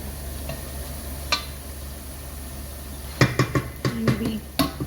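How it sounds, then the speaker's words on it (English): Mujadara of lentils and rice stirred in a pot, a quiet sizzle underneath for most of the stretch, then a burst of scraping, clinking spoon strokes near the end. "Give it a gentle stir just to"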